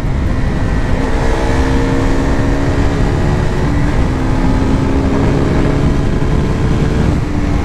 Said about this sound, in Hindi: रेव मैचिंग